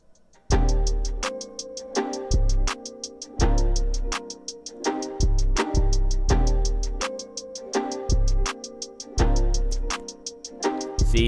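Beat with an EQ'd 808 bass added: deep booming bass notes under steady bright hi-hat ticks, layered melodic tones and punchy drum hits, loud and full with no talking.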